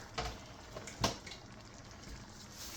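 About one and a half cups of water pours into a pot for burritos in a quiet kitchen, a faint, short splashing trickle with a couple of soft knocks.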